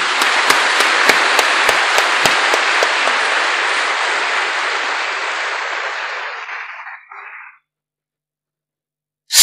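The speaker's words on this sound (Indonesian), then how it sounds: "Tepuk tangan untuk Cak Aziz." Dense clapping from a congregation honouring a newly appointed leader, loud and sustained with a few sharp claps early on, then thinning and fading into silence before a sudden burst at the very end.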